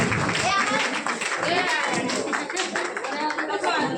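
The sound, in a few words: audience applause at a community hall award ceremony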